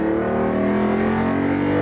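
A Lamborghini Diablo GT engine roars at steady high revs while driving on a track, loud and close with a strong rising tone throughout.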